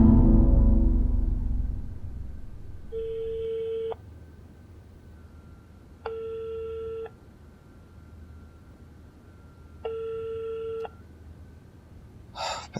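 A phone call rings out unanswered: three evenly spaced ringback tones, each about a second long, sound clearly through the receiver over faint line hiss, and a short click comes at the end.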